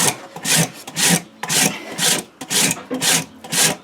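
A farrier rasps a horse's hoof wall to shape it, producing a steady series of about eight loud, rough scraping strokes in an even back-and-forth rhythm, close up with no talking.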